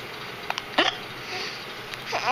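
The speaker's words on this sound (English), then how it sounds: "I got the hiccups." A child hiccups a few times at home, the short sharp gulping catches standing out against a quiet room hiss.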